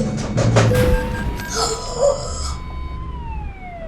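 A police siren in the Euro Truck Simulator 2 truck driving game wails in loud electronic rising and falling tones that sweep and overlap, then trail off into a thinner steady tone.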